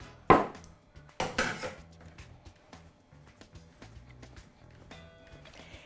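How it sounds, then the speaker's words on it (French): A knife cuts ravioli dough in two on a board, sharp taps and knocks with a loud initial strike and softer clicks after, in a quiet kitchen. "Je vais la couper en deux."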